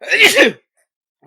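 A single loud, close human sneeze, sharp and explosive, followed by brief silence before a voice begins speaking.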